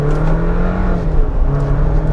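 Jeep Wrangler 4xe PowerTop at full throttle in first gear, hybrid mode and four-high, a loud close engine drone with a steady low hum throughout.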